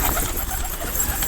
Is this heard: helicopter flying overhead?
no